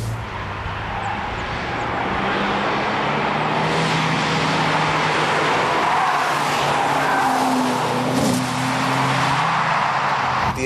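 An Opel Insignia drives fast on a test track, its engine roaring steadily with loud, sustained tire squeal and skidding across the whole stretch, no voices heard.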